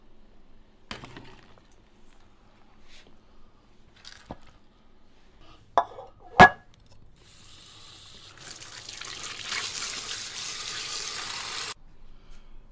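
Pig trotters being rinsed under running tap water in a kitchen, a steady splashing flow that starts partway in after a few small clunks and knocks, moderately loud with no talk.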